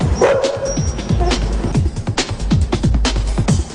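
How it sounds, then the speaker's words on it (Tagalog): Several pitbulls barking in quick, overlapping bursts, close and loud, with a few higher yips mixed in among the repeated barks. "Si Coffer, may mga alagang pitbull."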